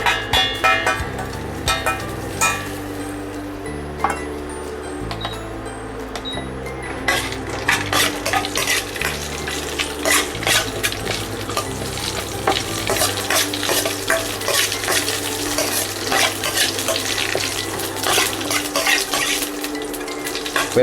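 Whole garam masala, bay leaves and cinnamon fry in oil in a pan while being stirred, a continuous loud crackling sizzle broken by frequent scraping and clinking of the spoon against the metal, close up and without any voices.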